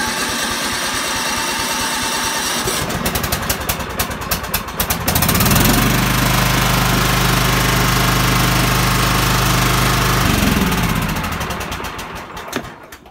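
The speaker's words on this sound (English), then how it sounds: "you start with the choke, and as soon as it's kicking over, put it in the rabbit position, which is the fast run" A John Deere ride-on lawn tractor engine cranks over with a rapid whirring starter, catches and runs with a loud, steady close throbbing idle for several seconds before winding down.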